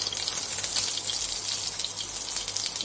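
Chopped chilli hitting a hot pan already holding cumin and bay leaf for dal fry, giving a steady, fairly loud crackling sizzle that holds through the moment with no talking.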